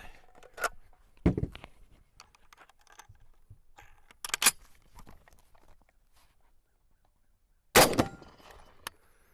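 Three sharp rifle reports from a Springfield M1A (M14) ring out at uneven intervals outdoors, separated by quiet stretches with faint rustling and handling noise.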